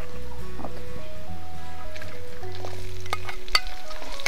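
Chopped shallots hitting hot oil for a sheep curry, with a loud close sizzle and crackle, stirring scrapes, and a few sharp utensil clinks toward the end.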